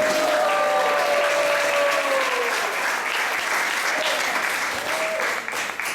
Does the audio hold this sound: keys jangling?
no